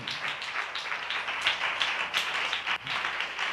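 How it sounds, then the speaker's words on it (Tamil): A church congregation claps hands together in a dense, steady burst of applause, many hands fairly close and loud with a slightly uneven rhythm throughout. "நல்ல கைத்தட்டி ஆண்டவருக்கு நன்றி சொல்லுங்களேன்"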